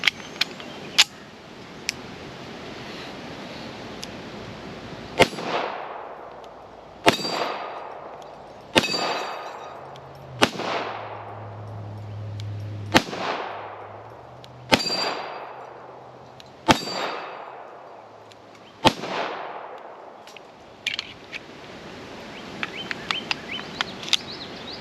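A Taurus PT 1911 pistol fires about eight slow, evenly spaced shots. Each sharp crack rings out loudly and decays over a long outdoor echo, and metallic clinks of ejected casings and handling follow at the end.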